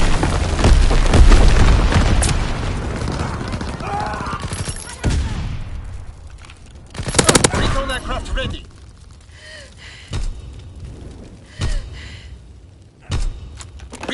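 Incendiary bombing in a WW2 game: a long, heavy roaring blast sequence rolls into scattered sharp booms and bursts, loud and close, with brief voices heard between the explosions.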